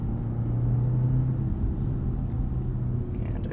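Engine of a 2024 BMW 530i xDrive G60 5 Series in sport mode, a steady close cabin rumble and drone with a slight shift in pitch partway through, and no talking.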